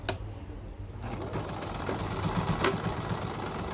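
Sewing machine stitching down a folded fabric edge for a mask, a rapid mechanical whirring hum that starts after a brief click and runs steadily, close with faint background noise and no talk.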